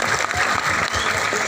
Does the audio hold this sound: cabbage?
no